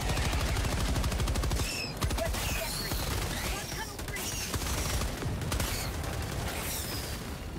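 Sustained automatic fire from a sentry turret in Helldivers 2, rapid dense bursts rattling continuously with booming impacts, loud and close, while voices talk over the battle.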